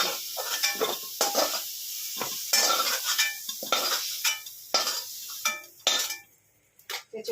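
Metal utensils scrape and clink against a pan in quick irregular strokes while fried jackfruit is lifted out, with a soft sizzle behind, then a brief quiet near the end.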